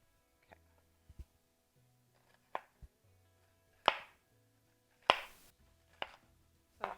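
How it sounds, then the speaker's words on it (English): Knife roughly chopping butternut squash on a cutting board, a handful of separate sharp thunks spaced irregularly, close and fairly quiet with no talking. "So I'm just going to chop this, just a rough chop"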